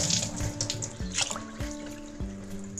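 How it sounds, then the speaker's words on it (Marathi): A glassful of water pours into a cooking pot for vegetable fried rice, a close, splashy gush with a few sharp knocks and drips and no speech. "आता मी याच्यामध्ये ना पाणी टाकते"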